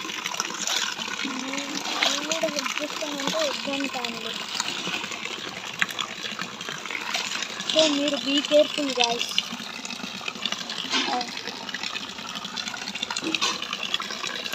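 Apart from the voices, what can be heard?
water being poured out of a flooded house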